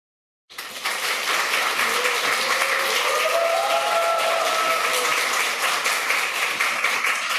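A church congregation breaks into sustained applause at a dedication service. The clapping starts suddenly after a moment of silence and holds as a dense, steady, loud roar of many hands filling the hall.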